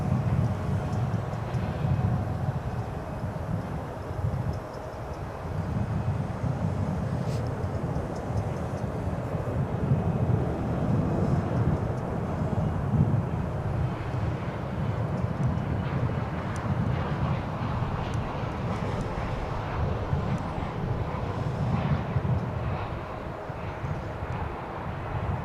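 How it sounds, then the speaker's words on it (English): A Boeing 737-800 airliner on a flight from Phoenix passes over a ridge near Dallas/Fort Worth International Airport, its engines a steady, continuous low roar sustained throughout with no voices. "737 800. And it'll be coming over the ridge just here in a second or two."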